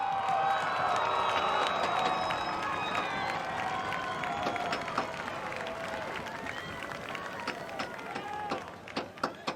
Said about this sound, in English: Round of applause for Matt Field and his team.